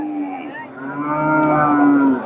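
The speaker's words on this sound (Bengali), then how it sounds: "এখানে একটা গাভী দেখেন, দেশি গাভী।" A local desi milk cow lows in one long, loud, drawn-out moo close by, with no speech over it.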